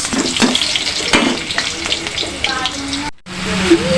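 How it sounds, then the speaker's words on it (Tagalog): Garlic and onion sautéing in a pan for a lunchtime dish, a steady close sizzle with a few clinks and a brief gap near the end, alone with no talk. "Igisa tayo, bawang sibuyas."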